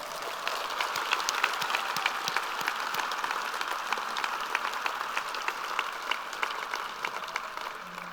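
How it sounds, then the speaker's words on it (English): Steady applause from a seated crowd at a university service recognition luncheon honoring long-serving staff, with dense, even clapping sustained throughout at moderate distance and no talking. "one more round of applause for everybody"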